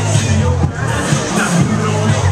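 Crowd chatter at an outdoor block party in Carolina Wren Park with a DJ, a close, loud babble of many overlapping voices mixed with nearer conversation.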